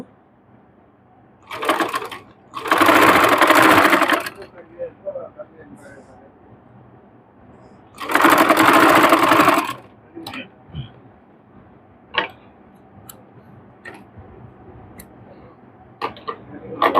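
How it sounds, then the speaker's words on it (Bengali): A sewing machine stitches the neckline of a ready-made dress in two loud, close bursts of rapid mechanical chatter, with quieter handling clicks and taps between them. "মাঝখান দিয়ে আমি সেলাই দিয়ে আটকে নেবো একদম সোজা করে আমাদের সেলাইটি দিতে হবে"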